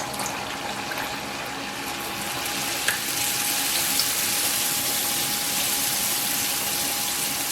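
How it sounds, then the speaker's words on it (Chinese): Small dough sticks drop into hot oil in a wok and fry, a steady hiss and bubbling sizzle that grows slightly stronger and holds evenly, with a faint tonal whine running underneath. "起锅烧油，我们借助刮板放入小油条。"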